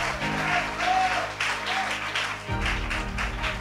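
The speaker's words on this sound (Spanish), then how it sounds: "Fuerte el aplauso." Applause rises from the audience at an awards ceremony, a continuous crowd clapping heard beneath a sustained musical fanfare whose low notes shift midway, the whole bed staying moderately loud throughout.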